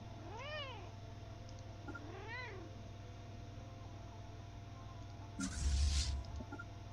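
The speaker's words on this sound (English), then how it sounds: "My cat's name is Kita." A house cat named Kita meows twice near the microphone, each call short and rising-falling, with a quiet background hum throughout and a brief rustling bump near the end.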